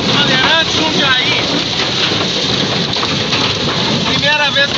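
Hail and heavy rain pound a vehicle on a highway in Brazil during a thunderstorm, a loud, dense, continuous clatter with a low rumble underneath and brief faint vocal sounds.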